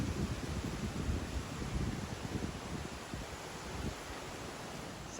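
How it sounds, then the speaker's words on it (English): Steady low wind noise rushing and buffeting against the microphone beside a river in Cornwall, with a faint rustling hiss of trees throughout and no voices. "it's very windy"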